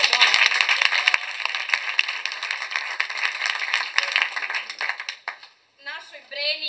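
Audience applause at a theatre performance, a dense sustained patter of many hands that stays loud for about five seconds, then drops out briefly before a voice speaks over the fading end.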